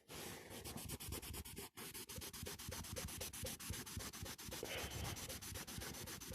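Steady, rapid rubbing strokes on a faded plastic convertible soft-top rear window worked with WD-40, a continuous close scrubbing rasp with a brief pause near the start.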